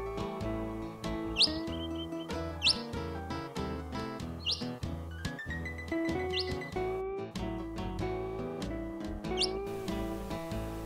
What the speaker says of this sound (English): Their tweet was very soft.